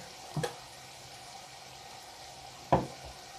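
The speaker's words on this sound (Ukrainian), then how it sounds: "Перемішаю зараз трішки." Vegetables and rice with sour cream are stirred in a pan: two quick scraping clatters of a utensil, seconds apart, over a faint background sizzle.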